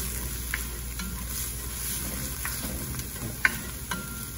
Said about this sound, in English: And let's stir it until it's fragrant, just about another minute.